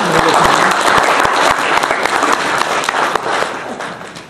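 Audience at a talk on ethics and liberals in Alberta clapping steadily, a dense, fairly close round of applause that fades slightly at the end.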